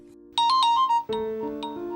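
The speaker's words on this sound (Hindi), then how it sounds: "किसी का फोन आ रहा है।" A phone ringtone plays close by, a few quick bright chimes followed by a sustained melodic tone.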